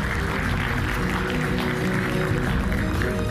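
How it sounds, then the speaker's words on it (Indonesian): A studio audience applauds a guest at a televised political talk show, a steady, broad wash of clapping that stays even and full throughout with no pause. "Kita berikan tepuk tangan."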